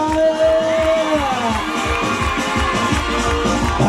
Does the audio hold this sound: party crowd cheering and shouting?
yes